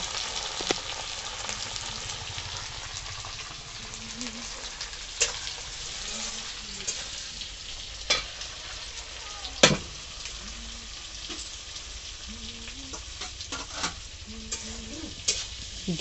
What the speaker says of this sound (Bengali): তা এখন কিশমিশ কাজুটা ভেজে নিল ঘিতে।